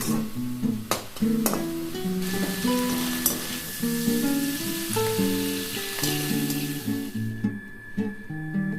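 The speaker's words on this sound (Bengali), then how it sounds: "চিংড়ি মাছগুলো ভালো করে ভেজে নেব।" Prawns frying in hot oil in a pan: a continuous sizzle with a few sharp stirring clicks, mixed with a melodic background tune.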